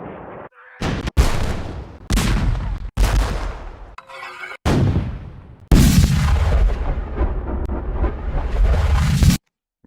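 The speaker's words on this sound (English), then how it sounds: "We'll reverse this. We'll reverse some kind of cannon." A series of heavy, booming reversed cannon blasts with swelling attacks, repeated several times and ending in a long sustained roar that cuts off sharply.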